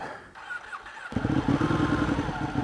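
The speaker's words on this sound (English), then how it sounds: "the sound of the Ducati starting up." A Ducati 1299 Panigale S engine cranks and fires up with a sudden rumble, then settles into a loud, throbbing idle close by.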